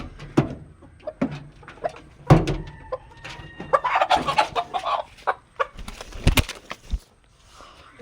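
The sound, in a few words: roosters clucking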